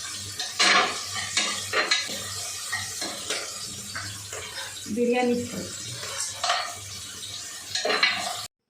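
Onions frying in two pressure cookers while chicken biryani is made are heard as a low sizzle under clattering spatula scrapes and metal knocks, with a person talking intermittently.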